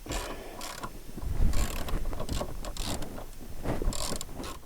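A bolt is loosened with a brace on an AWD Suburban, giving close, intermittent ratcheting and metallic clicking bursts with scraping between them.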